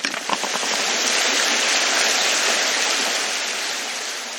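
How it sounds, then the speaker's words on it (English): Water gushes steadily from a hole cut in a rock tunnel wall deep underground, a loud, broad continuous rush that swells after a few splashy spurts and holds without pause. "Water comes out,"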